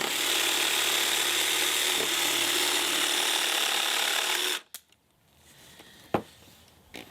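A Metabo HPT jigsaw cuts through a board with a steady, loud buzzing rasp for about four and a half seconds, then stops abruptly, leaving near silence and a single sharp knock afterward.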